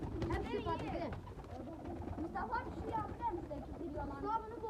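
Young pigeons in a loft coo softly amid a steady murmur of people talking close by, the low burbling calls coming and going under the voices.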